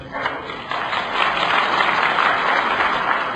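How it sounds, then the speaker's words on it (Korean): An audience at a talk show event breaks into applause, a dense patter of clapping that swells within the first second and then holds steady, fairly close. "여러분 박수 한번 환영해 주시기 바랍니다"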